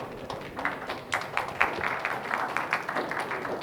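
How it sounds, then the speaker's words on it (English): Audience applause welcoming a high school team to the stage at a student presentation session, a steady wash of moderate clapping with scattered sharper claps, continuous throughout. "Please welcome them with a warm applause."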